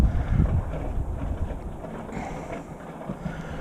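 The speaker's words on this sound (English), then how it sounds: "the wind is blowing this way, up against this bank, and pushing everything" Wind gusting against a lake bank during bank fishing, a loud continuous rumbling blow buffeting the microphone with no pause throughout.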